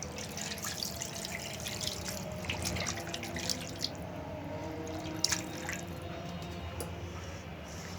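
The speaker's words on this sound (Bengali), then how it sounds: "এবার দিয়ে দেবো জল।" Water pours and trickles into a cooking pan for a hand-mixed mustard-oil fish curry, a steady faint splashing with a few drips, no voices.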